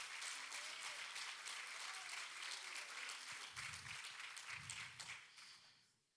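A congregation applauding at a church service, sustained dense clapping from a large crowd that fills the space, with a couple of low thumps midway before the applause fades out at the end.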